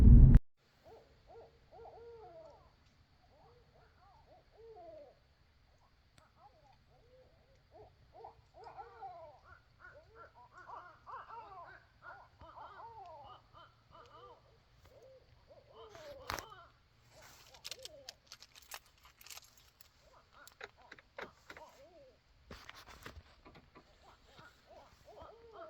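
Several owls hoot and call repeatedly in woods along the Kissimmee River, with overlapping, fairly distant calls that build into an excited chorus, then a few louder knocks and rustles near the end.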